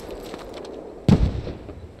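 A single heavy explosion in the video game Squad, a sharp boom about halfway through with a rumbling tail over a quieter background.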